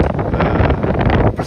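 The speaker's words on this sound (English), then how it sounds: "It's becoming windy" Wind buffets a microphone outdoors in Lisbon, loud, close, continuous low rumbling gusts that cover everything else.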